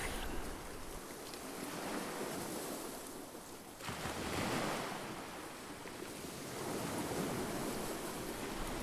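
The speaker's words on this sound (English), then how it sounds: "All you can hear is the gentlest lapping of tiny waves" Gentle lapping of tiny surf waves on a calm shore, a soft continuous wash with slow swells rising and falling, no voices present.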